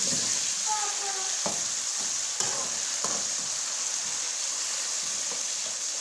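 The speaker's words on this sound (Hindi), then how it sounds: "अब हम इसमें अदरक लहसुन का पेस्ट डालेंगे।" Steady close sizzling of ginger-garlic paste frying in a pan for beef liver masala, with a few clinks of a utensil stirring and faint voices in the background.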